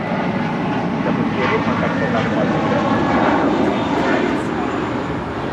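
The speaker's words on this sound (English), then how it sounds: "departing to Boston, JetBlue Airways, flight 288 on an A321" A JetBlue Airways Airbus A321 departs Los Angeles International Airport for Boston, its engines a steady, broad roar with a voice speaking briefly over it.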